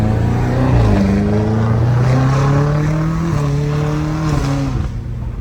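A BMW F90 M5 Competition with a titanium straight-pipe exhaust accelerates hard, its loud, raw engine note climbing through several gears with brief dips at each shift, heard from close inside the car.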